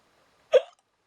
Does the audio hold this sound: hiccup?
yes